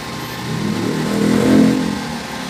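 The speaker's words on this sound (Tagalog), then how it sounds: "patensya na sa ingay kasi gilid tayo ng kalsada, tumadaan yung mga lalaking truck." A heavy truck engine rumbles past on a nearby roadside, swelling louder then fading, with a steady low drone throughout.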